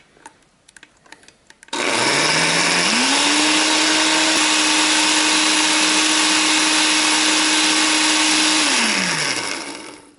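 A blender whirs on high speed chopping hot peppers for hot sauce, starting abruptly with a loud motor roar that steps up in pitch, holds steady for several seconds, then winds down at the end; faint clatter precedes it.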